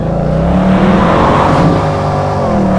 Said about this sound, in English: I definitely want to hear that supercharger whine